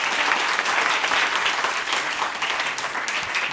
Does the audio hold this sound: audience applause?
yes